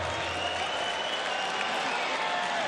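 Crowd at a Bellator MMA 275 prelims event applauding and cheering steadily throughout, a dense, even wash of claps and arena noise with no pauses.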